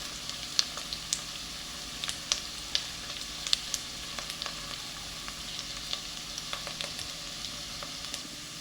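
Onions frying in a pan for an orange masala chicken, a continuous even sizzle with scattered sharp pops and crackles throughout, close up and without voices.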